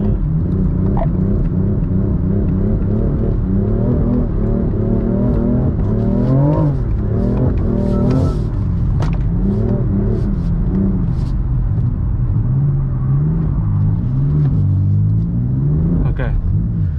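A BMW M4 drifts on a track in Korea, its engine roaring loud and close in rising and falling revs with tyre squeal, heard from inside the car, with a voice talking over it.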